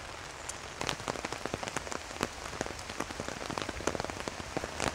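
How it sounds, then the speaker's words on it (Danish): Steady rain patters on a surface outdoors, a dense, even hiss of countless drops with sharper individual splats scattered throughout, no voices present. "Shit, det regner."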